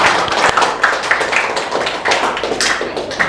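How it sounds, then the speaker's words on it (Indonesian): A school class claps their hands together in a classroom, a loud, close, uneven patter of individual claps in irregular bursts without a steady rhythm. "Tepuk tangan untuk kita semua."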